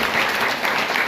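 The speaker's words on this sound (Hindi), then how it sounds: "एक बार जोरदार तालियां" An audience at an inter-college career guidance event claps for a speaker, a dense, steady burst of applause filling the whole moment without any voices over it.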